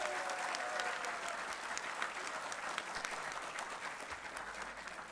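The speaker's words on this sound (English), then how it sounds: "Let's give her another big round of applause." Sustained audience applause at a university graduation ceremony for dental medicine, a continuous even wash of many hands clapping, heard from a distance and at moderate level.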